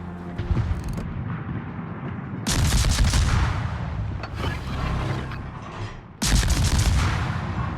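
Warship naval guns firing in a video game, heavy booming salvos that break in abruptly, with rumbling, crackling bursts between quieter mechanical stretches.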